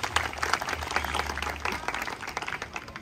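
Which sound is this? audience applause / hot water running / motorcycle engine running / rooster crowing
audience applause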